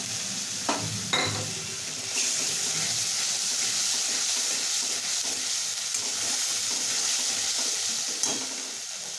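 Masala paste hits a hot pan for a shahi veg masala paneer, setting off a loud, steady sizzle and frying hiss, with a few clatters of the pot and spoon stirring near the start and end.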